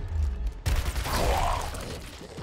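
A burst of rapid gunfire in the video game Gears Tactics erupts after a brief lull, loud and sustained with a booming low rumble.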